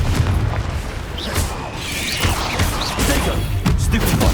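A Confringo fire spell exploding in the video game Hogwarts Legacy, a dense booming blast with crackling bursts sustained over a steady game soundscape, fairly loud throughout.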